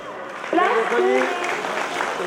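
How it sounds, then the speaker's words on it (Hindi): Audience applause for student prize winners at an eye camp award ceremony rises as a broad, fairly soft clatter of hands, with a voice speaking clearly over the clapping. "जोरदार तालियां।"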